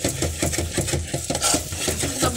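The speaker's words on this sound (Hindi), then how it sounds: "अब देखिए मुझे इसे भूनते हुए 6 से 7 मिनट हो गए हैं।" Continuous scraping and stirring of a mixture roasting in ghee in a pan for a winter Turri sweet, a steady rhythmic clatter of the spoon against the vessel, close and fairly loud throughout.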